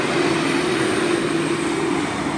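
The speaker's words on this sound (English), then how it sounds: "The up train coming through on the broad gauge." V/Line Bendigo up train passing on broad-gauge track, a loud, steady rumbling roar with a constant low drone throughout, no voices.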